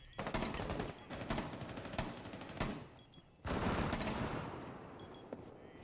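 Gunfire from an online shooter video game with Kali mains, mostly dense bursts of rapid automatic fire broken by a short pause, fairly loud and close, with no talk.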